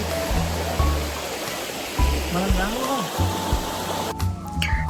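The Menik Ganga river at Kataragama rushes past in a loud, continuous broadband flow, with faint voices and tonal sounds over it and an abrupt shift in the texture near the end.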